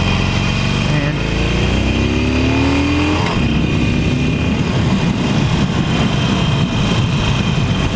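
A Harley-Davidson Iron 883 motorcycle engine rumbles loudly during a ride, with rising revs and heavy wind buffeting throughout.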